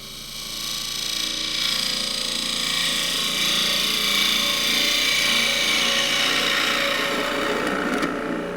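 Wood turns on a lathe under a 1/2 inch spindle gouge while a prototype glasses stand is shaped, a loud continuous close cutting hiss and whir with no pauses.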